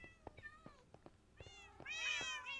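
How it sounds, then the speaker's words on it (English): Several cats meow in Minecraft, repeated overlapping mews from a crowd of cats kept indoors in a game base, growing louder and denser toward the end. "that's a lot of cats"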